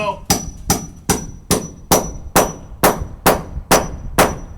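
A hammer drives a bolt into a damp, wet wooden board outdoors, giving about ten sharp, loud metallic clangs at an even, steady pace, close by, with no talking.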